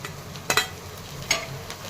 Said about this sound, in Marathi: लसूण पण आणि खडे मसाले तर हे थोडंच परतून घेणार आहे खूप जास्त परतून नाही घेणार टोमॅटो टाकून घेत आहे